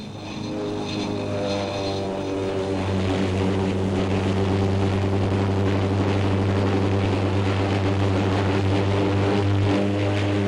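A Fairey Gannet aircraft lands on a carrier with a steady, loud propeller-engine drone that holds a strong low hum throughout, with no talk.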